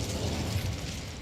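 A Confringo fire spell blasts in the wizarding game Hogwarts Legacy, a loud, broad explosive burst that rumbles steadily for about a second before easing off slightly.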